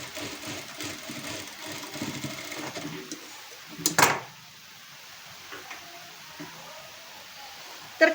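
A sewing machine runs steadily while stitching a blouse seam, its low whirring hum continuing for several seconds before a brief clunk, then stopping into near silence with a faint click at the end.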